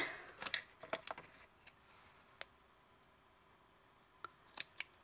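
Small scissors snip trimming thread on a needle felted robin, giving a handful of sharp, close metallic clicks, clustered near the start, then a pause and a final quick pair of snips, with no voices.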